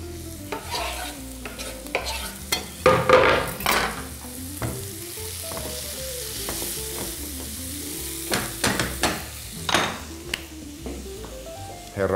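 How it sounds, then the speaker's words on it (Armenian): Fresh tomato tipped into a hot sizzling pan while cooking rasam, with a steady frying hiss and repeated close spoon stirs and scrapes against the pan; no talking. "Այս պահին կավելացնեմ նաև թարմ լոլիկ"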